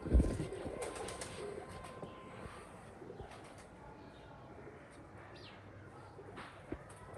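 Breeder pigeons coo softly in a loft, low rumbling calls repeating faintly in the background beneath a quiet ambient hiss, with a brief flutter or thump at the start.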